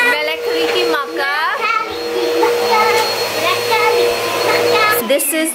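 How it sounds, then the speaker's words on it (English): A household vacuum cleaner runs loud and close with a steady whine, while a child and an adult talk over it before the motor cuts off near the end. "I'm gonna vacuum real quick"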